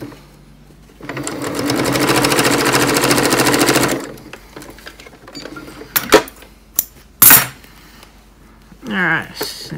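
A sewing machine stitches a coin purse in one steady, loud run of rapid needle strokes lasting about three seconds, followed by softer handling clicks and rustles.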